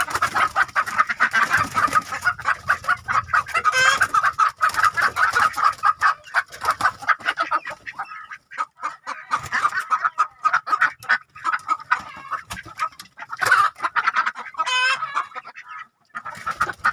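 Silver Fayoumi chickens, one rooster and four hens, cluck and call in a poultry coop, a close, busy stream of overlapping clucks with a few sharper squawks and no voices.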